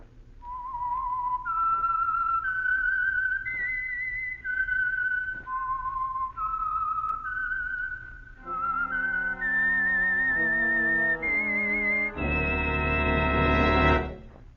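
A lone whistled melody, the signature whistle of The Whistler radio drama sponsored by Signal Oil, rises and falls in clear sustained notes before instruments swell into a loud closing chord.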